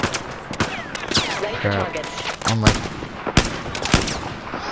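Gunfire in Battlefield 4, with sharp bursts and single shots crackling throughout amid game sounds and a brief spoken exclamation.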